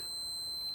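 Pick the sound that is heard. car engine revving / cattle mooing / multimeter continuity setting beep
multimeter continuity setting beep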